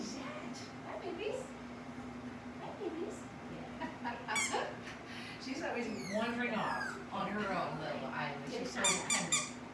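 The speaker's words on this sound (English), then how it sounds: "I don't know about that squeaky toy" Squeaky dog toy squeaks in short, high bursts among a litter of puppies at play, scattered through the clip over faint whines and background voices talking.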